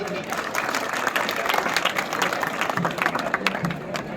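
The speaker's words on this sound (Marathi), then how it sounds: "जोरदार टाळ्या वाजवायच्या." Crowd applause at an honouring ceremony during a temple cleaning drive at Karla fort, where a senior police officer felicitates volunteers; dense, steady clapping runs the whole stretch with a murmur of voices beneath.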